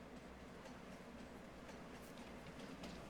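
Train rolling along in Farming Simulator 22, a steady continuous rumble with faint clattering, moderately loud and unbroken throughout with no talk.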